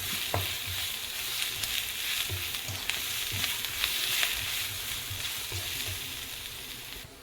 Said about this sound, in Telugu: జీలకర్ర పొడి, ధనియాల పొడి వేసి దీన్ని కూడా ఫ్రై చేసుకున్నాం